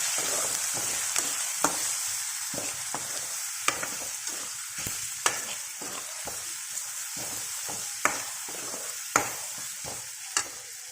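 Tomatoes with coriander powder, chili powder and turmeric stirred in a pan for a toor dal curry: a steady sizzle broken by frequent sharp scrapes and knocks of the spoon against the pan, close and fairly loud.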